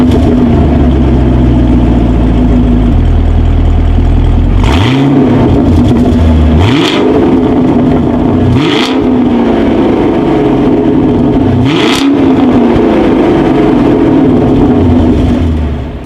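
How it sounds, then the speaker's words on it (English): 2019 Chevrolet Camaro SS with quad exhaust tips, a loud close idle rumble broken by four sharp throttle blips spaced a few seconds apart, each rev rising and falling back to idle, with no talking. "As always, here is that exhaust clip."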